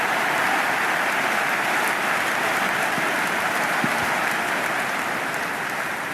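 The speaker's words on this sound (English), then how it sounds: "The crowd is electric right now." Continuous dense roar of a stadium crowd applauding in the cricket video game Cricket 26 during an India versus Afghanistan T20 match, steady and loud throughout with no pauses.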